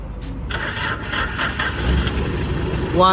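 A Honda Civic EG with a B20B engine starts up and settles into a steady idle, loud and near, with faint voices briefly in the background.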